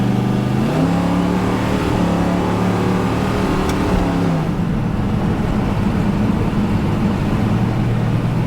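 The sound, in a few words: muscle car engine revving, accelerating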